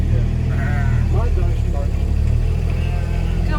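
Sheep on a Peak District farm give a few bleats over a loud running vehicle engine, with people talking nearby.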